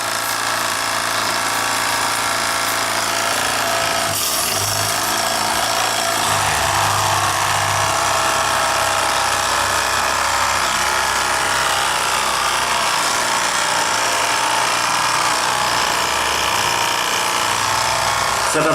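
A small model boat steam engine, twin-engine, on a vintage 1961 RC runabout after repair, runs continuously at a fast, high-pitched buzz, steady and loud throughout with a slight shift in tone partway.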